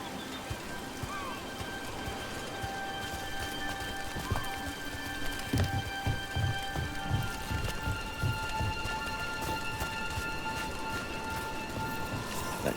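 Rain in Dragon Age: The Veilguard falls steadily with a soft hiss of drops on surfaces and a continuous ambient wash, with faint thuds and movement sounds in the middle and no clear talking.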